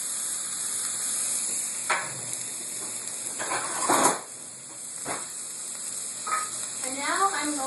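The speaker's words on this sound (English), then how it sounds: "you're going to add your mushrooms. I've got about 2 cups of mushrooms. Stir those together." About two cups of mushrooms sizzle in a hot pan while being stirred, a soft steady hiss broken by several scraping strokes and clinks of a utensil against the pan, ending with a few brief higher squeaks.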